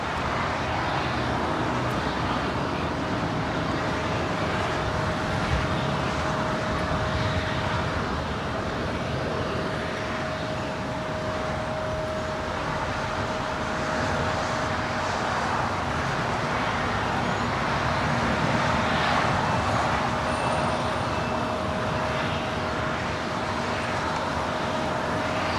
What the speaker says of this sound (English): that is the China Airlines A350, also landing up there on the north side